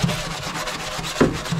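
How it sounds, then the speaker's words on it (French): A small brass wire brush scrubs the sheet-metal floor of a van in quick, steady back-and-forth strokes, close and raspy, with one harder scrape near the end. "Voilà donc une petite brosse laiton, hein, tout ce qu'il y a de plus ordinaire, et voilà, on frotte"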